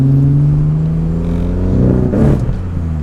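BMW E30 with a new tune, its engine revving hard under throttle up toward about 4,000 rpm, a loud close rising and falling growl with a brief surge near the end and no talk over it.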